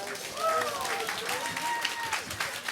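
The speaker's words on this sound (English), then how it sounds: "Let's give it another round of applause for our great leaders" Applause from diners at a gala dinner, a moderate, somewhat distant patter of clapping mixed with crowd murmur and a voice speaking over it.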